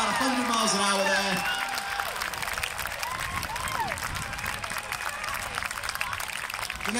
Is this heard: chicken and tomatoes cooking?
no